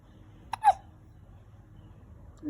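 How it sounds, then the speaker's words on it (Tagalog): A single sharp hiccup comes from a baby, a brief close gulp standing alone against a quiet room. "Ang sinok pa din."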